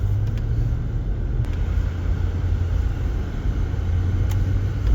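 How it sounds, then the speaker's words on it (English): Car traffic passes on a snowy road near Jay Peak, a steady low rumble of tires and engines that stays constant throughout, with no talk. "not exactly a heavy load of traffic coming in"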